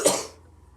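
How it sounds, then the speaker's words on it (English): A single short cough, close and fairly sharp, fading quickly into quiet. "So much talking is making me cough"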